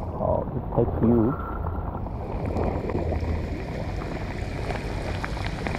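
Heavy rain pours onto a fishing boat off Sydney during kingfish fishing, a steady dense hiss under wind buffeting the microphone, with brief speech-like sounds at the start.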